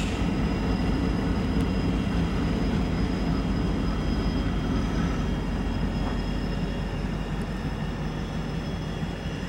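A diesel locomotive train backs up along a nearby track by a canal bike path, a continuous low rumble with steady mechanical drone and faint tonal hum, no voices.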